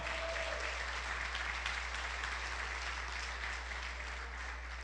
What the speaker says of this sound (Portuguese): Se você quer dar um aplauso mais alto ao Senhor